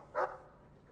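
A single short, fairly quiet dog bark from a fantasy video game, a brief bright yelp followed by soft background ambience.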